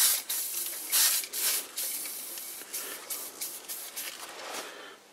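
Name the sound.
spraying WD-40 onto wooden threading tool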